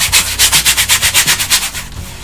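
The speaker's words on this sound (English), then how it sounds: "because I'm trying to soften up my brush, I'm really scrubbing" A paint brush is scrubbed hard back and forth to soften it, a loud rhythmic rasping of about a dozen quick strokes that fades at the end.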